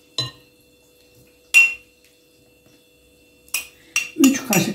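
A spoon stirs a spinach mixture in a cooking pot, giving a few separate metallic clinks and scrapes spaced by quiet gaps, ending in a busier cluster of knocks against the pot.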